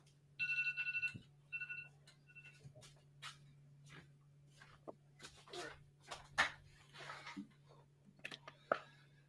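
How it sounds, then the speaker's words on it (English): A phone alarm rings in short repeated tonal bursts at the start, then gives way to faint handling clicks and rustles over a low steady hum in a quiet room. "my alarm is going off"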